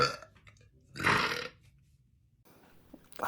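A woman burps, one loud, drawn-out belch in the middle, with faint breathy noises before and a brief rough gulp-like sound at the end; nobody talks.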